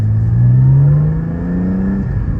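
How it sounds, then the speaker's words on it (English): A Porsche 718 GTS 4.0 flat-six fitted with a Soul valve controller revs close and loud, its deep, throaty drone rising steadily in pitch at low RPM before easing off, with no talk over it. "it sounds a lot more throaty. You can definitely notice the engine at the lower RPMs."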